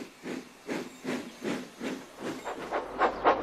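A cartoon steam engine puffs along the track, a run of about nine regular hissing chuffs close by, coming slightly faster and louder toward the end.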